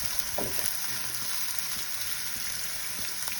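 Onions frying in a pan until browned, a steady close sizzle of hot oil with faint crackles, continuous and alone with no voices.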